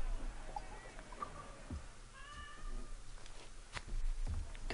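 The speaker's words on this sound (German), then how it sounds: "Katzengejammer! Das ist das schönste Gejammer auf der Welt!" A cat meows faintly in the Assassin's Creed Rogue game, a couple of thin, drawn-out cries over a low ambient hum and scattered background game sounds.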